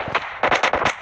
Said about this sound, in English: Getting shot at! From where?